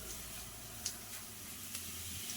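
Crab masala frying in a pan gives a steady, soft sizzle with faint hiss, broken by a couple of brief clicks from stirring, close and moderately quiet with no talk.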